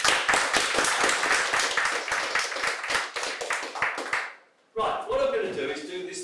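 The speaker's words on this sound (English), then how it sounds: "round of applause for everyone" Audience applause on a Gloucester street, steady clapping from a small crowd running for about four seconds, fading out, then giving way to a voice speaking.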